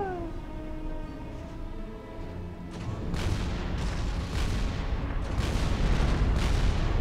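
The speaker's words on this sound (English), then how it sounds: "Fire the nukes until he is dead." Nuke launches in the strategy game Supreme Commander Forged Alliance, a broad rumbling roar that swells and builds over several seconds with bursts layered on top, loud and continuous without talk.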